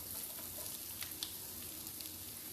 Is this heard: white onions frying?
yes